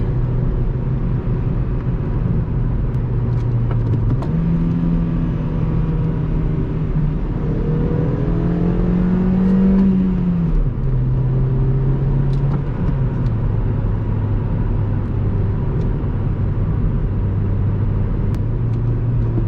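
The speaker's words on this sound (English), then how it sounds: "So I'll do a little heel toe here to show you how easy it is in this car." A 2010 Honda Civic LX-S with a manual gearbox revs during a heel-toe downshift on the road, the steady engine drone rising to a quick blip and then settling back to a lower hum, alone without talk.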